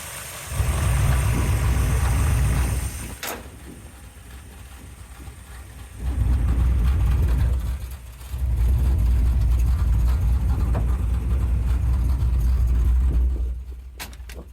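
A 1967 Chevrolet Nova SS with a 350 V8 engine rumbles in deep, steady bursts that swell and fade several times while driving, with quieter idling gaps between them. No one speaks.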